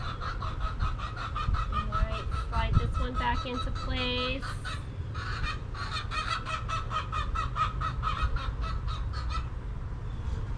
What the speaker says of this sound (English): The chickens are liking the weather too. You can hear them back there squawking.